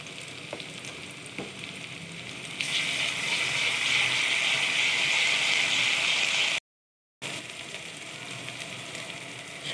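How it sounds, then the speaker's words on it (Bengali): Chopped onion drops into hot mustard oil. A quiet background gives way to a sudden loud, steady sizzling hiss that continues, broken once by a brief cut of silence before resuming. "তেলটা গরম হয়ে গিয়েছে, আমি এখন পেঁয়াজ কুচি দিব।"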